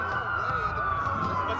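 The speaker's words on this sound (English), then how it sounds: "That's a lot of sirens for a blackout." Police sirens in the video game Watch Dogs wail loudly and continuously, with layered up-and-down tones from several vehicles close by.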